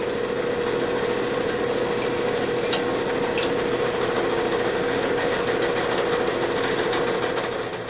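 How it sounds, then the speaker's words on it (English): A steady, continuous grinding whir of a drill boring a small hole into wood while making a hunting knife, unbroken for several seconds with no voices. "I'm going to drill the small hole first."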